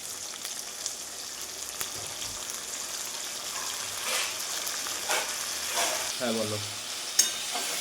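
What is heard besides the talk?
onion, tomato and capsicum frying and stirred in a pan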